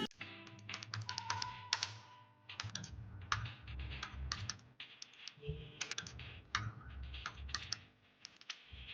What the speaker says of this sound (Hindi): मैं एंटर टाइप करूँगी और जो मेरा एड्रेस है मैं यहाँ पे एड्रेस टाइप कर लूँगी